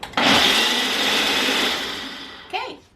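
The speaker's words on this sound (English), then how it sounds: "so you blend it for 60 seconds" A blender blending a shake roars steadily at high speed for a few seconds, then winds down with a short whirring drop at the end.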